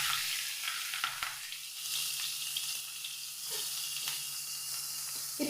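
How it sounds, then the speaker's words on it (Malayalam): Onion, carrot, curry leaves, green chili and ginger sautéing in a pan, a soft continuous sizzle with faint scraping stirs and occasional clicks, quiet and close with no voices. "ഇത്രയും ചേർത്ത് നമുക്ക് നല്ല പോലെ ഒന്ന് വഴറ്റിയെടുക്കാം"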